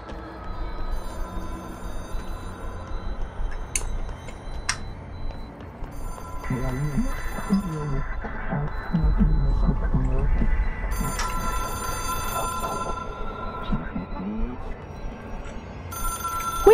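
An old-style telephone bell rings in the video game Control, sounding in repeated bursts over game music and ambient sound, with a voice talking partway through.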